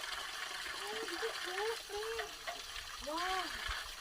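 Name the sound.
cold mountain waterfall water at Shillong Peak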